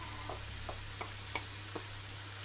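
Carrots frying with onions and minced meat for lasagne give a low steady sizzle, broken by a few soft scraping stirs spaced about every half second, close and fairly quiet.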